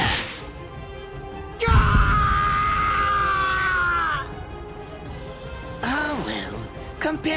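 A man screams in pain in the video game Bleach Rebirth of Souls, a loud sustained cry of about two and a half seconds, followed by shorter strained vocal sounds and groans.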